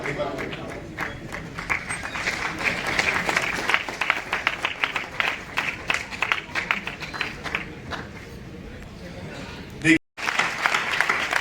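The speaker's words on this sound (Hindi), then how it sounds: "जोरदार तालियां उन सभी के लिए, जोरदार।" An audience at a community hall ceremony honouring top students applauds loudly with dense, continuous clapping, while a voice speaks over it through a microphone.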